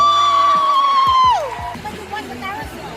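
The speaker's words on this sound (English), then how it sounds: "You can hear me screaming." A woman screams loudly with a sustained, falling shriek at a Tony Awards viewing party in New York, followed by excited crowd chatter and whoops nearby.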